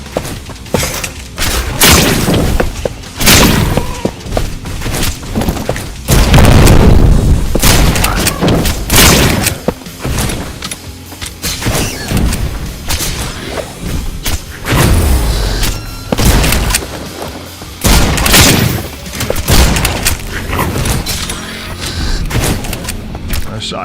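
Heavy shotgun blasts from a roguelite video game, booming shots at irregular intervals through a loud, busy mix of game effects, with a voice talking over the action.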